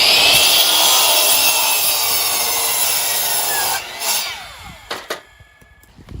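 Miter saw slicing through a composite decking board for a raised garden bed, a loud sustained cut lasting several seconds before the blade winds down and a few short knocks follow.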